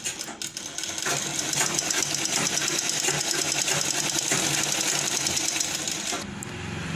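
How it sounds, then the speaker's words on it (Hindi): A sewing machine double-stitches the shoulder joints of a lined blouse with a continuous rapid whirring hum that holds steady for several seconds close by before stopping. "इस तरह से डबल सिलाई देते हुए दोनों शोल्डर जॉइंट कर लूँगी।"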